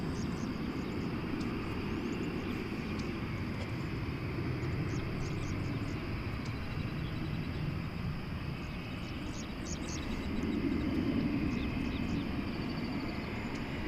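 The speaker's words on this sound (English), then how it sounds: "This is an Airbus A320." An Airbus A320 airliner at DFW Airport gives off a steady, fairly distant jet engine roar that swells slightly toward the end, with faint chirps above it and no talking.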